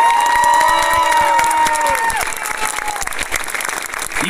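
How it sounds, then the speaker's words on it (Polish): A crowd at a third-league season-ending event in Chorzów applauds the blue team, clapping and cheering dense and loud, with shrill whistles and shouts over the applause. "Wielkie brawa dla niebieskich!"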